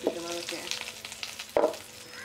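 Jackfruit dish with a ground paste of coconut, shallots, green chilies and cumin seeds frying in a pan, giving a steady close sizzle with a few brief stirring scrapes and a louder burst near the end.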